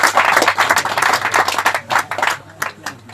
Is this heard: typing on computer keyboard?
no